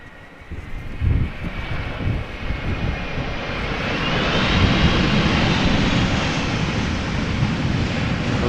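A Delta Airbus A330 lands in a crosswind at Amsterdam Schiphol Airport, its engine roar loud and steady from the outset and then swelling into a broad, sustained rush as it passes close by.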